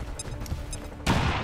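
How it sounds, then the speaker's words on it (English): A grenade going off in XCOM 2, preceded by a few short game cues, then a sudden loud blast near the end that rings on briefly. "Throwing grenade."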